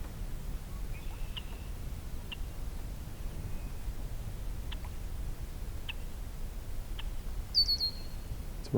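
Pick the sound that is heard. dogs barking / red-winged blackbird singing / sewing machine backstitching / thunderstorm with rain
red-winged blackbird singing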